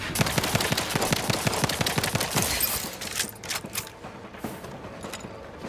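Pistol fire in The Outer Worlds 2, a quick run of loud, closely spaced shots for nearly three seconds, then a few separate, sparser reports afterward.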